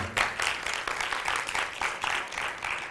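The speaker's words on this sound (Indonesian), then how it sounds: "Kalau dengar, bolehkah beri tepuk tangan yang meriah?" Applause from the congregation at a youth church worship service, a steady wash of many hands clapping together, moderately loud and sustained with a few faint voices mixed in.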